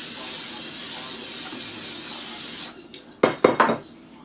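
Cooking spray hisses steadily into a mixing bowl for about two and a half seconds, close and fairly loud, then stops and is followed by a few clattering knocks of dish handling.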